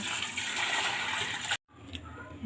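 Water pours into a rice cooker holding chickpea dal, a close, continuous splashing gush that cuts off abruptly, followed by faint handling noise.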